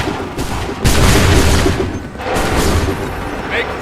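Loud volleys of musket gunfire in Assassin's Creed 3 Remastered, with booming broadband blasts that roll into a sustained crackling fusillade, then a second burst, and voices shouting under the din.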